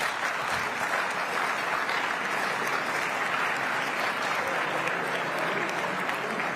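A large crowd at a ballgame applauds steadily, a dense, continuous wash of clapping at moderate volume with no break.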